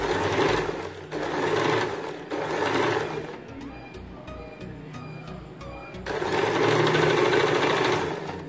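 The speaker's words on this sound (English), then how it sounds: "I am placing piping on the right side of my sleeve and start stitching." A sewing machine runs in steady bursts while stitching piping onto a kurti sleeve: loud whirring runs at the start, a quieter stretch with light ticking clicks in the middle, then another sustained run at the end.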